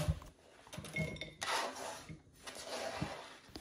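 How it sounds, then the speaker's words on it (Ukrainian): A kitchen knife slicing onion into thin feather-like strips on a board, irregular soft taps and scrapes with clinks, close and quiet, no talking. "Цибулю нарізаю ось такими пір'ями"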